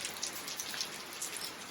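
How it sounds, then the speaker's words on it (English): Steady, soft rain falls outdoors as storms move in, making a faint, even hiss with scattered light droplet patters throughout and no talking. "we do have some rain in the background"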